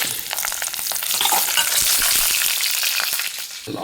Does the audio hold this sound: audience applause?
no